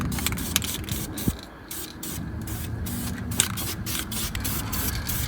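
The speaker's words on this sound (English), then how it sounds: "I'm not really too worried about overspray on any of this shit" Aerosol can spraying cleaner onto dirty truck parts, several hissing bursts of varying length separated by short pauses, close and fairly loud, with faint clatter between sprays.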